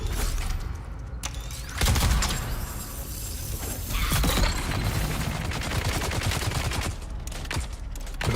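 Rapid bursts of gunfire crackle and rattle almost nonstop in the sci-fi survival game Dune Awakening, loud and close, with clanking mechanical impacts mixed in.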